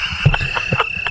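Cricket chirps used as a silence gag after a joke on a live comedy radio show: a steady, thin high trill with soft pulses over about a second, with a faint murmur underneath.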